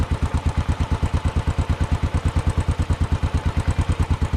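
An old-school motorcycle engine runs at a steady idle nearby, thumping in an even, rapid rhythm of regular firing pulses with a slight mechanical clatter and no talk.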